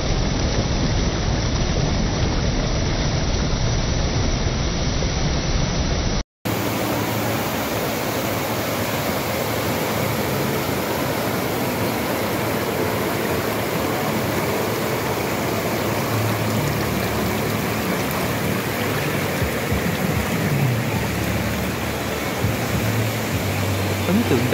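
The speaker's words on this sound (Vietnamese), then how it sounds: "Đứng từ trên cao nhìn xuống, thác nước tuôn chảy ầm ầm" The Bù Đăng waterfall in Bình Phước roars as steady, loud broadband rushing water. A brief cut interrupts it, then the dense rush carries on unchanged for the rest of the clip.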